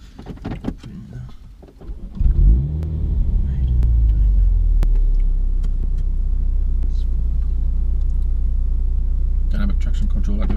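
A Mini F56 John Cooper Works automatic on a launch control attempt: talk and clicks give way to a deep rising engine rumble that swells and then holds steady and loud, with voices over it near the start and end.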